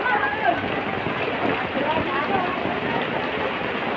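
Steady rain pours down during monsoon flooding near a riverside port, a dense, continuous hiss of drops on surfaces filling the whole stretch at moderate level, with a voice faintly present beneath it.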